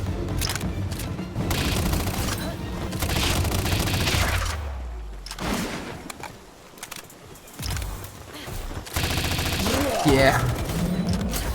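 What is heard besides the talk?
gunfire in the video game Palworld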